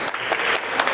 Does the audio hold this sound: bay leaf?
no